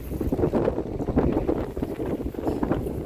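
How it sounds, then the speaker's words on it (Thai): Strong wind outdoors by a stream while fishing, loud buffeting gusts rumbling continuously across the microphone with no voices. "ลมแรง"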